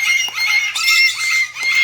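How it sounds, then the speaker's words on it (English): A parrot calls in a few close, shrill squawks and squeals, strung together in short bursts over less than two seconds, loud and fairly harsh, with no talking. "you guys can hear the birds"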